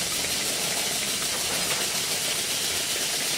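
A Stuart 504 model steam engine runs with a steady, dense hiss and fast mechanical chuff, close and continuous throughout.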